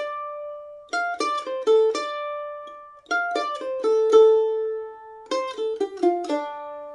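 A bright mandolin picks out a lilting melody in three phrases, notes ringing clearly with quick runs and short pauses between.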